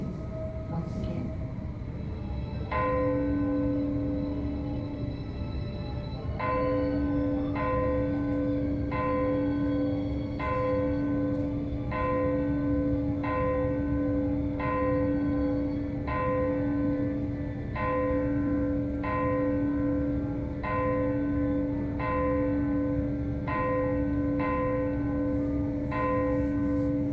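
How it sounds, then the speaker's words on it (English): A church bell is rung in a museum audio exhibit at the Titanic Museum in Pigeon Forge, with one stroke for each of the Attical 14. A long run of evenly spaced, ringing strikes rises over a steady low hum. "the relatives of the Attical 14 ring the church bell for each of the 14"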